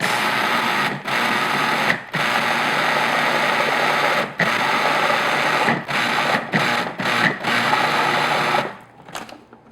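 Butter tart filling with vanilla extract being mixed by an electric mixer, a loud, close, steady buzzing whir broken by several short pauses before fading out at the end.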